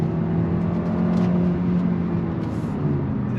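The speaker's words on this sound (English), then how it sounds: "on throttle, here we go. 8-speed drops down and we are off and running." A 2023 Kia K5 GT-Line sedan with a 1.6-liter turbocharged engine and 8-speed transmission accelerating on a highway, a steady close engine drone and road noise as the gearbox downshifts, with no talking.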